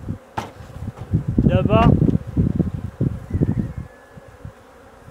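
Honeybees buzzing around a closed hive, a wavering drone close by mixed with handling noises and someone speaking briefly.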